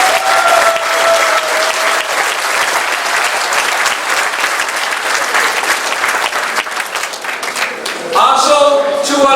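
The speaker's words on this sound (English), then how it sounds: "Let's have a great round of applause for Mr." Banquet audience applauding at an airborne awards dinner with trophies, a loud sustained burst of many hands clapping that swells again near the end, with a brief tonal sound over it.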